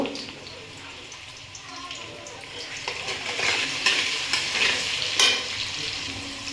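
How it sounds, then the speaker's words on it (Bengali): Potato pieces frying with onion in a pan sizzle continuously while being stirred, with scraping clinks and rising bursts of hiss, close and fairly loud. "এক দেড় মিনিট আলুটাকে নাড়াচাড়া করে নিয়েছি"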